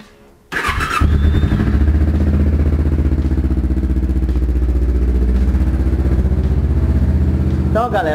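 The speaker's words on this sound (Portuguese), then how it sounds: "Vou esquentar a moto aqui" A motorcycle engine fires up after a brief cranking burst and settles into a steady, loud, close idle for several seconds as it warms up for its first start of the day.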